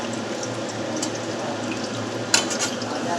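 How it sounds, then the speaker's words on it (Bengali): Chicken feet and wings fry in oil with a continuous bubbling sizzle, close and fairly loud, with a sharper crackle burst near the end. "পা আর পাখনাগুলোকে না আগে একটু তেলের সাথে ফ্রাই করে নিচ্ছি"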